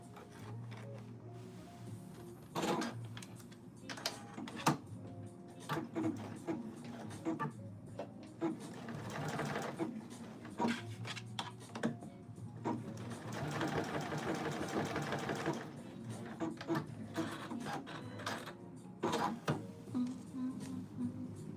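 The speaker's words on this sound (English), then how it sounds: "I was supposed to sew up to this point." Sewing machine stitching in bursts of rapid mechanical chatter, starting and stopping repeatedly over about twenty seconds, close and moderately loud, with a few scattered handling knocks between runs.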